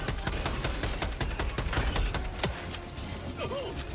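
Rapid bursts of automatic gunfire from the video game Helldivers 2, a dense fusillade of sharp overlapping shots firing continuously and loudly throughout, with brief faint voice fragments underneath.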